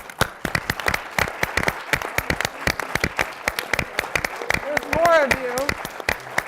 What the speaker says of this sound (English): I want to start with a second hand of applause